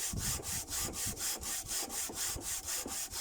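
Hand sanding of a very hard wood for a kitchen countertop, a steady rhythmic rasping of back-and-forth strokes, about three per second, close and moderately loud with no talking.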